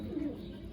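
A short low coo from a Madras pigeon at a loft, one brief phrase rising over faint background hum, close by.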